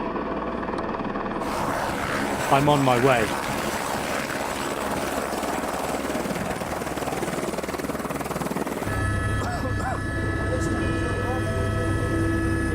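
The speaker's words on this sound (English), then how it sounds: "Then another helicopter gets through." Helicopter arriving at a devastated Everest base camp after an earthquake and avalanches, a loud, steady rotor drone throughout, with someone speaking briefly over it.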